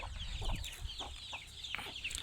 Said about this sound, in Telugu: మన దగ్గర కడక్నాథ కోళ్ళు ఉన్నాయి, గిరిజా కోళ్ళు ఉన్నాయి